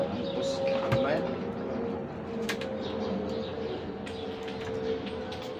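Pigeons at a loft coo and flutter close by, with someone talking over them and some background bustle.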